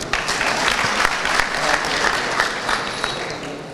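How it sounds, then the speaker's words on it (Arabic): A wedding-celebration audience claps in sustained, dense applause, many hands at once, loud and continuous from start to finish with no speech over it. "صفقوا للملك"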